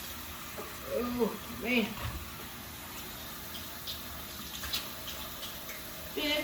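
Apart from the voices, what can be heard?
running tap water, washing hands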